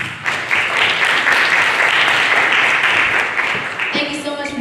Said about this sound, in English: Please give Mr. Thomas a seminal round of applause